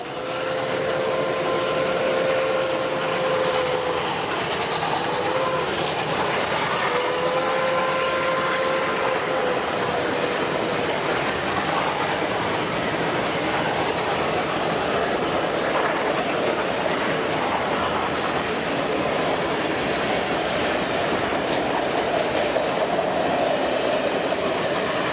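A steam train, R&N 425, rumbles past steadily for the whole stretch, loud and close, with a continuous roar and faint squealing tones riding over the noise.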